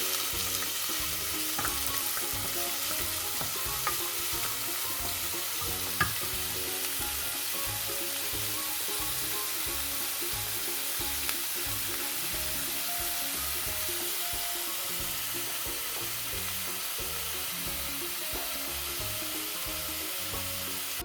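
Onions for a vegetable biryani fry and sizzle steadily in a hot pan for about twenty seconds, with the spoon stirring and scraping now and then and a few louder clinks rising from the constant crackle.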